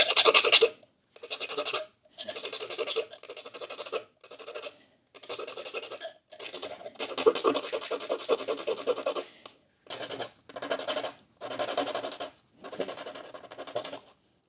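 A file rasps against the end of a tapestry needle to blunt it, in about a dozen short back-and-forth strokes with brief pauses between them, close and scratchy.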